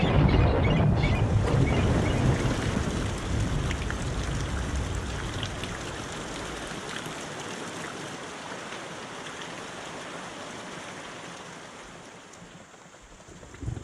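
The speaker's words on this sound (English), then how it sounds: "A storm brews up overnight." Heavy overnight storm rain in the South African wild pours down in a steady dense hiss that slowly eases over time, with no voices.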